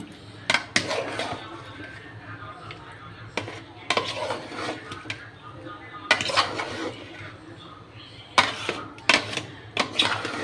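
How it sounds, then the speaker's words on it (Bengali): A spoon scrapes and knocks in irregular bursts as beef curry with ground nut paste and green chillies is stirred in a pot, over a faint sizzle, with some talk in between. "বাদাম বাটাগুলো দিয়ে দিলাম আর একটু নাড়াচাড়া দিয়ে দিই"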